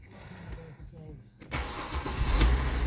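Mercedes E350 with an M272 V6 cranks and fires up after a quiet moment, settling into a steady, fairly loud idle; someone talks briefly beforehand.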